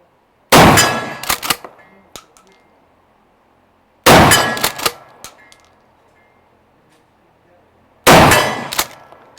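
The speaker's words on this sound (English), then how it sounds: "So shooting just a little left with these Remington Slugger slugs." Three loud, sharp shotgun blasts firing Remington Slugger slugs through a cylinder-bore barrel, spaced about four seconds apart, each with a brief ringing decay into quiet.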